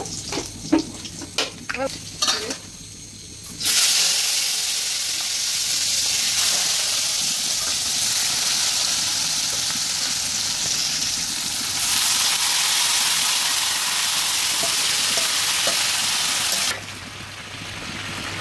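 Dried chili and bay leaf go into hot oil, raising a loud, steady sizzling hiss that carries on for many seconds and then drops away. Before it, a few clinks and a voice are heard.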